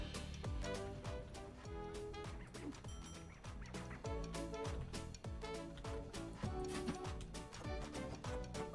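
Busy, bouncy supermarket simulator game sounds with chickens clucking and squawking in quick repeated bursts, steady and fairly quiet throughout.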